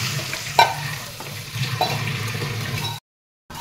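Stirring a small fish curry base in a pan gives a close, steady sizzle with scraping knocks of the spoon, then a brief cut to silence near the end, with no talk.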